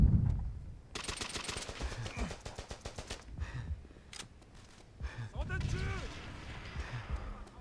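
Rapid bursts of gunfire from the Wii version of Call of Duty: World at War, with sharp automatic volleys and crashes over a dense game soundscape, and a voice heard faintly in the mix.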